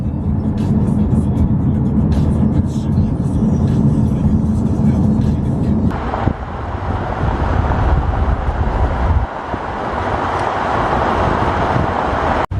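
A car driving on the road, heard as a steady interior rumble of engine and road noise that shifts character partway through as the drive continues, with no talking.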